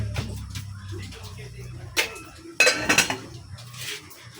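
Metal lid set onto a cooking pot of okra, giving a couple of sharp clanks and rattles close by, with a quieter earlier clink; no one speaks.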